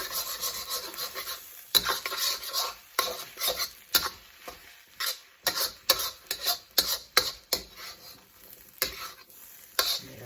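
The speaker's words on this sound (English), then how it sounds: "So I'm just gradually adding some rice because the egg's just about cooked." Rice stirred into nearly cooked egg frying in a pan for Korean bokeumbap: rhythmic scraping strokes of a spatula against the pan repeat in quick bursts over a low sizzle, close and fairly loud.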